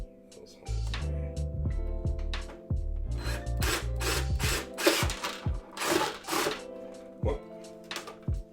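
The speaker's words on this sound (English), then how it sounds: "we can go and we can drill through" A power drill bores through pre-made holes in small printed project pieces and into a servo, giving a close, droning whine that shifts pitch as it cuts, broken by short scraping and tapping noises.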